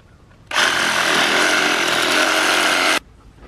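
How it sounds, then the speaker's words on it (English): A Sawzall reciprocating saw cuts through an animal leg bone, a loud, close, continuous buzzing grind that starts abruptly and runs steadily for about two and a half seconds before cutting off. "I use the Sawzall, and we're gonna get this one cut up here"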